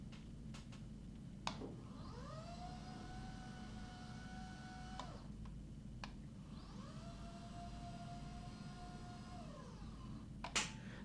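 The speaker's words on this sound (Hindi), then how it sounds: "ये इसकी इतनी ये आवाज़ करेगी टेबल जब भी अप डाउन जाएगी" Electric sit-stand desk motor running in a room, two steady whirring runs of several seconds each as the table moves up and then down, over a constant low background hum with a few faint clicks.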